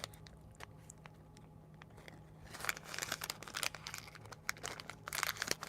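Wrapper crinkling and tearing open an energy bar, followed by faint crunchy bites and rustles, close and quiet with little else around.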